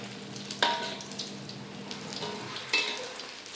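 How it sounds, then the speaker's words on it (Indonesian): Vegetable fritters (bakwan) frying in oil give a steady close sizzle, broken by two sharp clattering knocks from the pan or utensil; no one speaks. "di sini saya lagi goreng bakwan ya"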